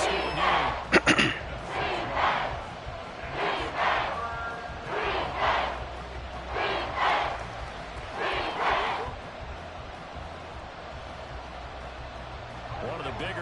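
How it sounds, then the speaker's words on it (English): A stadium crowd in a Madden football game roars and chants in surging waves of cheering during a close fourth quarter as a big third down approaches, with a commentator talking over it throughout. "the crowd getting into it as we come up on a big 3rd down"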